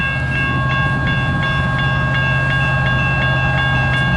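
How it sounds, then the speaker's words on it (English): A CN double-stack freight train with one engine rolls past slowly in Richmond, Michigan, its steady low rumble joined by regular wheel clicks and a sustained horn-like tone that holds throughout. "It's a double stack train."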